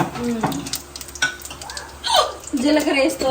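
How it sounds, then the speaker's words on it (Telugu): Tempering seeds and dried red chillies sizzle and crackle in hot oil in a home kitchen while a spoon stirs, with spits and pops breaking through and a voice speaking over the frying. "ఆయిల్ అయితే వేసింది ఏంటి తాలింపు గింజలు అయితే వేసింది ఎండుమిర్చి వేసింది"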